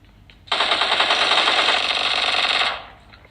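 Rapid automatic gunfire from a mobile shooter game played on a POCO F4 5G, a loud continuous burst of about two seconds that starts abruptly and fades out, standing alone with no talk.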